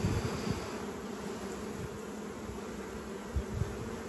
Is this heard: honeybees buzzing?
yes